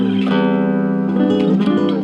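A diminished chord rings out on a Cordoba nylon string guitar, a dense sustained strum that slides and shifts voicing midway, loud and close with no talking.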